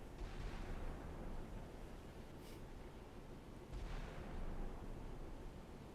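Naval gunfire from a warship firing on a target during Operation Praying Mantis in 1988, heard as a dense, sustained low rumble with two softer booming swells rising above it.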